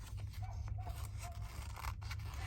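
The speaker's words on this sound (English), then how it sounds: "Okay, grab my fussy cutting scissors." Fussy cutting scissors snip through paper in a quiet craft session, a series of soft, close blade snips repeating over a steady low hum.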